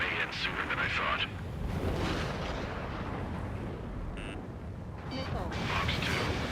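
Missile launches and impacts in the jet combat game Ace Combat 7, a series of heavy whooshing bursts and booming blasts over engine roar, with a short warning tone partway through and cockpit radio chatter over it.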